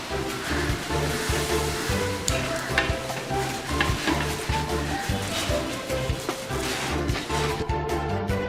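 Mustard seeds, pepper and cumin sizzle in hot oil in a large biryani pot for a 25 kg wedding-style chicken biryani, a steady loud crackle with stirring clatter and scrapes throughout.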